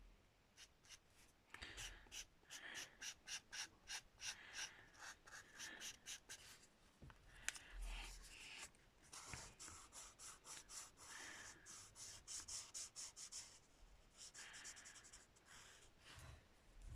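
An alcohol marker rubbed over paper to lay down a third coat of yellow, a faint, close, rhythmic scratchy stroking that repeats steadily, with soft breathing and no talk.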